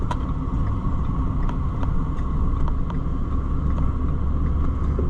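A car in downtown traffic heard from inside a moving vehicle hauling a load, a steady low engine rumble and road drone holding constant with faint ticks over it.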